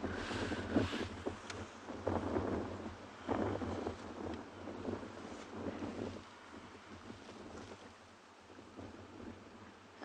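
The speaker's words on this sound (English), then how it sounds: "You can hear the wind is really, really picked up." Strong wind sweeps across an open safari landscape in the Kalahari, buffeting the microphone in loud, gusting rumbles and whooshes that ease somewhat toward the end.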